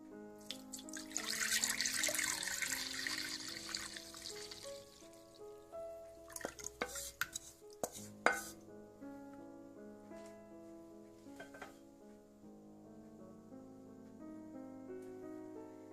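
Tamarind water for pani puri splashes and pours into another pot for a few seconds, then drips and clinks of the pot over quiet background music.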